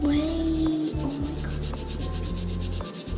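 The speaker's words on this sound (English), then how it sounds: "I'll take some on the brush and then I'll like scrub it." A paint brush scrubs back and forth over a surface in short rubbing strokes, near and fairly loud over a steady tonal background hum.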